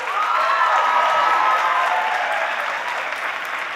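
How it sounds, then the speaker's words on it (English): Loud, sustained audience applause at a choir concert during a senior recognition, a dense wash of clapping that holds steady for several seconds and eases slightly toward the end, with no voices over it. "let's save our applause until the very end, okay? And then big applause"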